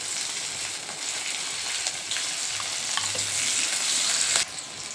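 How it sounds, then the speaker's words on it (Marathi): Green chilies sautéing in hot oil, a bright continuous sizzle with soft stirring scrapes, up close and unbroken until it eases slightly near the end; no speech. "मिरची छान असे तेलामध्ये परतून घेऊया."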